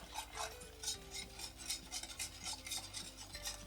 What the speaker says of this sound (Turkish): Sütümü soğuk süt bu arada döküyorum içerisine ve tel çırpıcıyla karıştırıyorum.